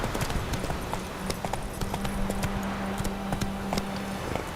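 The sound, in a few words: horse Roach galloping in video game The Witcher 3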